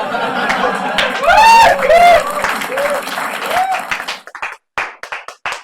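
Audience at a live stand-up comedy show bursts into loud applause and clapping, with rising whistles over the crowd, then it thins to scattered claps and murmuring after about four seconds.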